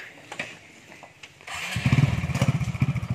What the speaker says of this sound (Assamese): আমাৰ ছাৰে বাইক ষ্টাৰ্ট দিব এতিয়া